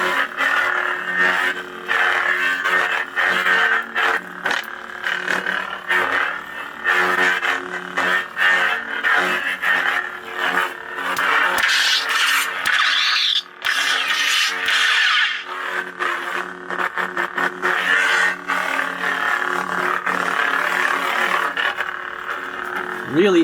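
For over twenty seconds a Korbanth Graflex saber fitted with a Titan Class soundboard hums deep and loud. Restless swings and flourishes keep surging and dipping over its steady throaty buzz.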